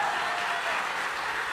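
Audience applause from a crowd at an indoor gathering, steady dense clapping filling the whole moment without pause, loud and close.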